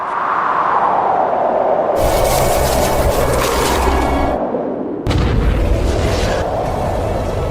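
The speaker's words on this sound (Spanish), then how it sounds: "La explosión fue tan poderosa como el corazón de una estrella." Loud, continuous explosion effect as a colossus stomps the ground: a massive rumbling blast that surges twice, with deep booming low end and a crackling, roaring wash sustained for several seconds.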